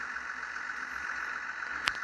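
A tractor working a corn-planting field runs at a steady, close, moderately loud drone, with a single sharp click near the end.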